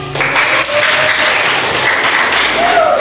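Students in a classroom clapping together, a loud, dense burst of applause close to the microphone, with some vocal noise mixed in.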